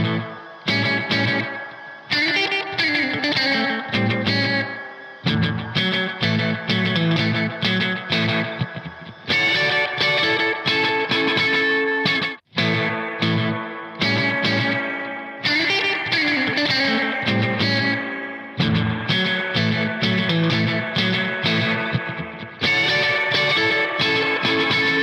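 Roland Space Echo hardware tape delay on a basic slapback setting, processing a continuous loud musical part, with short repeats trailing each note and a brief dropout near the middle.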